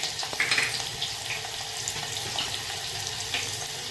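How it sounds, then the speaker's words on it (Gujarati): Whole spices and curry leaves hit hot oil with a soft, continuous sizzle and light crackle at moderate volume, steady for a few seconds. "હવે આપણે ખડા મસાલા નાખશું. લીમડાના પાન નાખશું"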